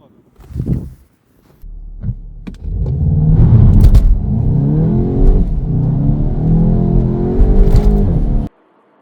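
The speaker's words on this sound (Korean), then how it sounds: "지금 타고 있는 차는 GTI입니다." A Volkswagen Golf 8.5 GTI being driven, its engine a steady low hum and rumble from inside the cabin after a brief thump, holding even for several seconds before stopping abruptly.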